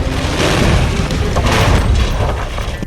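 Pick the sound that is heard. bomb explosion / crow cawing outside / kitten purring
bomb explosion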